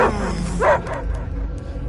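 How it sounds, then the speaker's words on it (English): A dog barks and whimpers in the Guardians of the Galaxy video game, with a few short yips over a low rumbling game background at close range. "I hear only barking"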